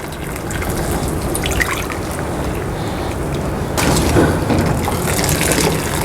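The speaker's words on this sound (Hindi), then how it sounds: "अब पालक को निकाल लेते हैं और ठंडे पानी में इसको शामिल कर लेते हैं।" Boiled spinach for palak paneer being moved into a bowl of cold water, with steady splashing and trickling throughout that grows louder and fuller near the end, heard up close with no talking.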